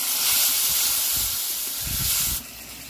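A steady, loud hiss and sizzle rises from a pan after ginger, garlic and cumin paste and a little water are added to the spices. Faint stirring knocks sound beneath it before the hiss drops off near the end.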